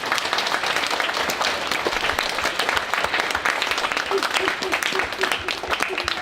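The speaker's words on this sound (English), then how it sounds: "Can we give those boys a round of applause?" Students at a Year 7 school assembly applaud steadily for several seconds, a dense, continuous patter of many hands filling the hall, with faint voices beneath.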